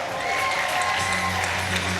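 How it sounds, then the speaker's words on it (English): A live studio audience claps and cheers for a team at a game show event, a dense, steady wash of applause close by with crowd noise throughout. "You guys are going to be cheering for the red team of John and Corey. Make some noise for them."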